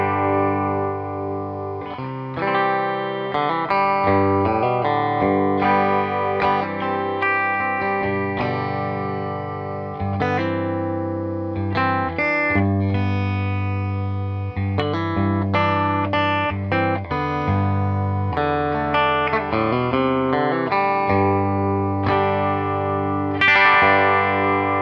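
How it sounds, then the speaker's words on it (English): Heritage H-530 electric guitar on the clean channel with its bridge P90 pickup: a continuous run of chords and single-note lines with ringing sustain, played alone at steady loudness with no talking. "Bridge pickup sounds like this."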